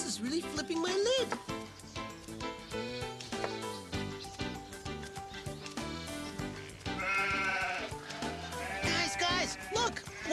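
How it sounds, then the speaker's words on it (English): Several goats bleat repeatedly in a children's television episode, their wavering calls overlapping one another and mixed with talking voices and other sounds throughout. "More goats! It's a goat invasion!"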